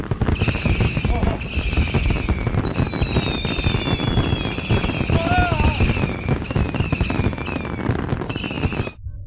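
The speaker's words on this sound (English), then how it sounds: "I used all the fireworks we couldn't use in space and sent them to their bridge." Fireworks burst and crackle in a dense, continuous barrage aboard a starship bridge in a sci-fi space comedy, loud throughout with whistling, squealing streaks overhead, ending abruptly.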